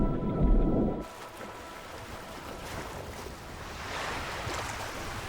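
Mediterranean surf washes onto a beach at Port-Cros, a broad, hissing rush of water that swells and recedes, preceded by a brief low rumble at the start.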